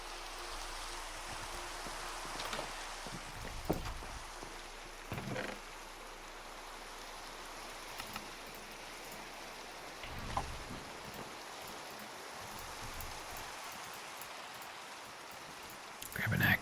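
Steady rain pours in a survival video game set near caves, a continuous broadband hiss with a few brief louder bumps and taps over the top.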